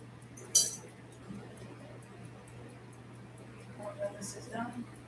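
A spoon stirring a solution in a glass container during a lab enzyme experiment, a few faint, sparse clinks against the glass over a quiet background with a low steady hum, with a voice talking.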